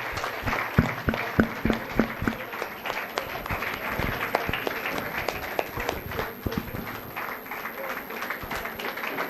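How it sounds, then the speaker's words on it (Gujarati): An audience at a Women's Day event held by a women's association in Kharghar, Mumbai applauds an honoree with sustained clapping, dense and lively throughout, with some crowd voices mixed in. "જોરદાર તાળીઓથી વધાવી લઈએ ઋત્વીબેનને."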